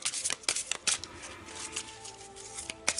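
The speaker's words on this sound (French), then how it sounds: "Je vais tirer les cartes pour voir quelles sont les énergies qui pourraient bloquer" Oracle cards shuffled by hand for a card reading: a quick run of crisp riffling flutters and soft slaps, close and fairly loud, with short pauses between bursts and no talking.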